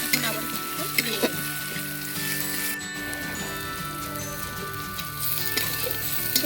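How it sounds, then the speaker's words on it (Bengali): Already-roasted peanuts sizzling and frying in a pan, a continuous bright crackle with occasional louder pops and stirring scrapes, close and steady throughout with no talk. "একসঙ্গে আবারও ভালো করে ভেজে নেব।"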